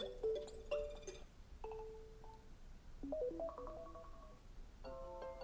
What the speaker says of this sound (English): there is some pre-recorded ringtone that comes included with your iPhone